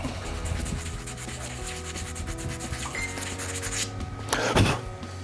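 Rubbing and sanding across a resin shaving brush handle, a steady close scratchy friction that runs continuously, with a louder burst of strokes near the end.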